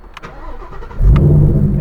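A 2015 Mustang GT fitted with an MBRP exhaust fires up at the push of a button, a short starter whir swelling into a deep, loud engine rumble right at the car.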